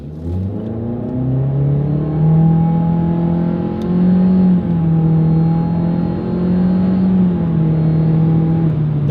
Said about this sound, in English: let's see how quickly we can get our new 2026 Mitsubishi Eclipse Cross here up to speed